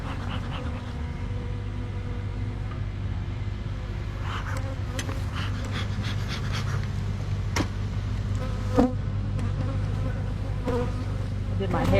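Honey bees hum in a continuous close drone around a beehive, steady throughout with no talk over it.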